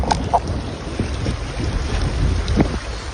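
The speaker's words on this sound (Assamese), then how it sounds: "আজি আমাক 3টামান বজাৰ পৰা ধুই আছে ধুমুহাজাকে।" Stormy wind with rain outdoors on a day of a wilderness expedition, roaring continuously and buffeting the microphone with a heavy rush throughout.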